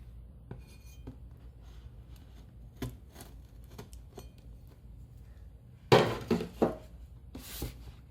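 A knife slicing through phone box packaging, with scattered light scrapes and taps, then a louder burst of cutting and tearing near the end, close and alone.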